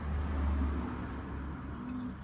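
Racing pigeons coo in low, soft, throaty murmurs, loudest early on, with a roomy, steady background hum and a few faint clicks.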